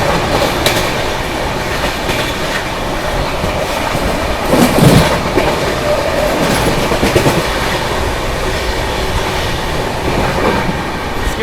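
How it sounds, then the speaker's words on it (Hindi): A Bihar Sampark Kranti superfast express running at about 130 km/h through Firozabad station, steady loud rumble and rhythmic clickety-clack of wheels over rail joints heard from on board, with no talk. "130 की रफ्तार पे अपनी ट्रेन भाग रही है।"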